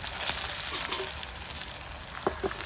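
Kingfish pieces frying in oil in a pan, a dense continuous sizzle and crackle with scattered pops and light clatter, close and fairly loud.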